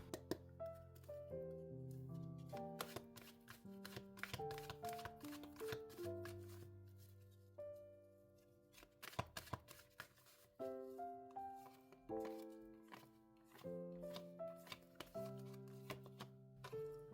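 Tarot cards are shuffled and drawn in quick papery riffles and soft flicks, close and quiet, under steady soft background music with no talking.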